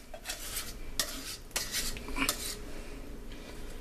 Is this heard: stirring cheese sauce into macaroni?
yes